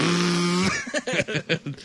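A voice imitates an old lawnmower engine starting up, giving a sustained buzzing drone for under a second, then choppy sputtering bursts like an engine catching.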